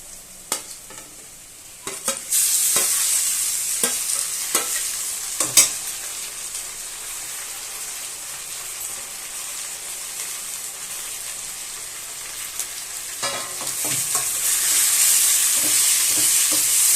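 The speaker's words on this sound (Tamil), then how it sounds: "வெங்காயம் இந்த மாதிரி வந்த பிறகு மாங்காய் போட்டுக்கலாம்." Onions and raw mango frying in a pan for mango rice produce a bright, steady sizzle that swells after a couple of seconds. Scattered scraping clicks of a spoon stirring run through it, close and without voices.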